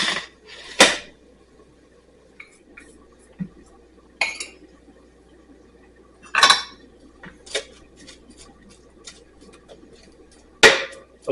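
Brisket being lifted out of a cooking pot in a Cajun kitchen: a handful of sharp metal clanks and clinks of utensils against the pot, spaced irregularly with quiet stretches between, close and fairly loud.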